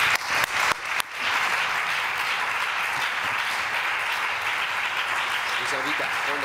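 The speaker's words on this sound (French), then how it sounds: "je vous propose de les applaudir très vivement" An audience applauds the panelists at the close of a conference session on health institutions and the ecological transition: a few sharp separate claps open, then a sustained, even roar of hand-clapping fills the room.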